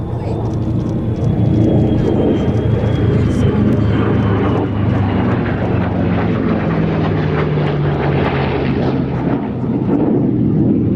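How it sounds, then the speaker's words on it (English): A US Air Force F-35A fighter jet of the 495th Fighter Squadron roars past at an air show, a loud, sustained engine rumble with a shifting pitch; a commentator talks over it. "F-35A with the US Air Force"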